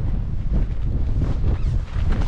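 Wind buffets a tent on a wild camping spot along a border ridge, a steady loud rushing roar with gusty fluctuations throughout and no voices.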